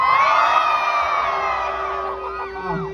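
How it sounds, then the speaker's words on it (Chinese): A concert crowd screams and cheers loudly and close by, with high shrill voices sustained and slowly fading toward the end. "我觉得你们先给千月一个尖叫声，也给我一个尖叫声好不好？"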